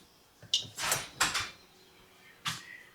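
A home front door opens, making a few close knocks and clunks followed by a longer rattling scrape and a final thud, with no talk.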